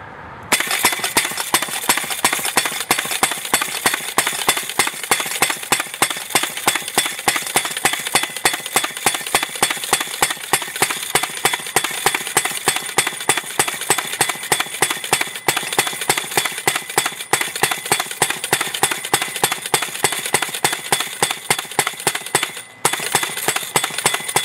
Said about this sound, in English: we just drove a 4-pound Uchannel Post with our brand new Propane Hammer